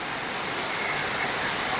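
Rain falls steadily on a rainy day, a continuous close hiss of drops on surfaces with no break and no voices.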